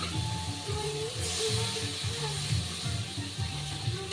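Spice paste hitting a hot pan of softened tomatoes while cooking sama rice khichdi: a steady, moderate sizzle and hiss running throughout beneath a speaking voice.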